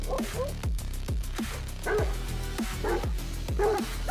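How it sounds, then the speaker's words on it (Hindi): Several fierce guard dogs bark in repeated loud, close bursts with growling underneath, a steady low hum in the background throughout. "उन कुत्तों के भौंकने, जंजीरों के खिंचने और गुर्राने की आवाजें पूरे कंपाउंड में"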